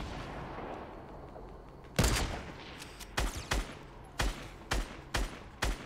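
Gunshots in Fortnite: after a quiet lead-in, a sharp loud shot rings out, followed by a series of crisp, evenly spaced single shots, each cracking out close and distinct.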